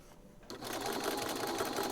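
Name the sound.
sewing machine stitching fabric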